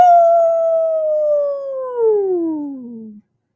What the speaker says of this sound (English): Howls Coyote miles from the house.